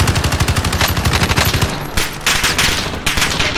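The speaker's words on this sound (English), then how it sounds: "Nice explosion." Gunfire in the Call of Duty game, a fast rattle of machine-gun bursts followed by a louder blast and more shots, loud and close with no talk.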